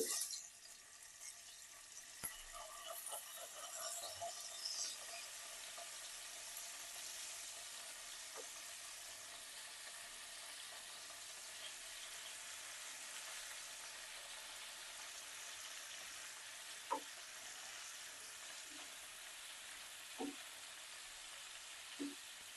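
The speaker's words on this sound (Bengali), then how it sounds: "তেলটা গরম হয়ে গেছে, এবার আমি পনিরগুলোকে ছেড়ে দিচ্ছি, আঁচটা কমিয়ে নিচ্ছি।" Paneer pieces fry in hot oil over lowered heat, a soft, steady hiss of sizzling with a few faint ticks and pops, heard alone and fairly quiet throughout.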